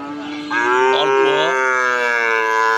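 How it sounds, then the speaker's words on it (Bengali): Cattle at a weekly village cattle market, including young red calves, give a loud, drawn-out moo close by, one sustained bellow over faint background noise, with no talk. "এই ডোগার গরুগুলা লাল, সুন্দর সুন্দর বাছুর"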